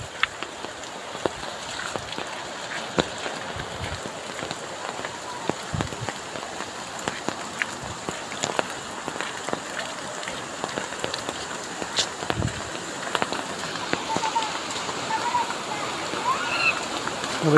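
Downpour over a Konkan village in heavy monsoon rain, a steady close patter with a rushing undertone of running water and occasional louder splashes throughout.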